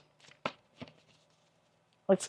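Tarot cards are shuffled in a few short crisp bursts, one riffle after another, each a quick brushing flutter with gaps between them and a brief louder flurry at the end.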